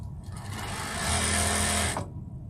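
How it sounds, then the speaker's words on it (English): An electronically controlled sewing machine starts up, races at high speed for about a second with a bright, even whine, then stops abruptly, leaving near silence at both ends. "think how fast you can get your projects done on a machine that sews like that"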